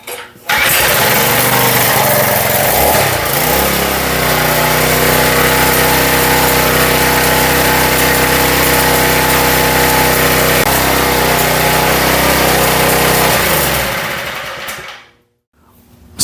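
A Powermate lawn edger's small engine, freshly carb-cleaned, catches and runs steadily at a loud, buzzing pitch for about fourteen seconds, then cuts off into silence.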